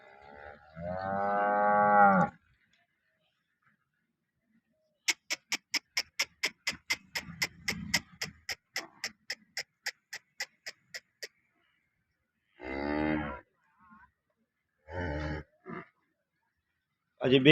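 Cows moo loudly several times, long low calls separated by pauses, with a rapid ticking sound in between and no talking.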